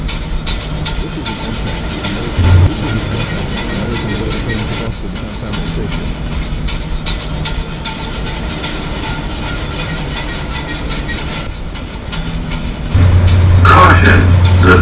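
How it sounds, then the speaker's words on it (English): An Amtrak American bullet train heading to Boston South Station rumbles loudly and steadily with faint rail clatter. Near the end it grows louder and adds a sustained tonal whine. "This is an Amtrak American bullet train to Boston South Station."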